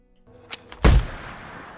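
A single sharp gunshot fired at a deer in the video game The Last of Us, a loud close blast with a short ringing tail, preceded by a couple of softer clicks.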